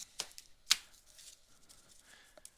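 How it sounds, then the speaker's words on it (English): A few quick papery riffles and flicks of playing cards being shuffled close by, two sharper bursts standing out early, then quieter rustling. "let's give these another shuffle"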